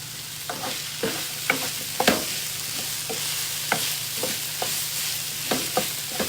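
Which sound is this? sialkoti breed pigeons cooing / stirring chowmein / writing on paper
stirring chowmein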